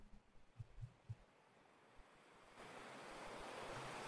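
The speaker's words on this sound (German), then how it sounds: "Schönes Meeresrauschen" Steady broadband ocean surf, a wash of waves building louder in the second half, with a few low thumps near the start and no talk.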